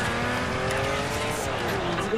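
Car drifting in the racing game Forza Horizon, a steady engine drone with tire squeal running throughout, held at close range with a voice talking over it.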